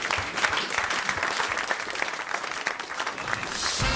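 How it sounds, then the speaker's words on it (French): A studio audience applauds during a French radio comedy show, with sustained, fairly even clapping that swells slightly near the end. "On vous applaudit"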